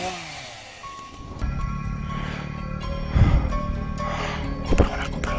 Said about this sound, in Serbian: Kao da ima motornu testeru.